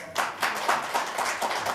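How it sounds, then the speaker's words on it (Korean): Audience members at a Korean policy forum on policy finance applaud, a brief burst of hand clapping in a room that holds steady for under two seconds. "다시 한번 큰 박수 부탁드리겠습니다"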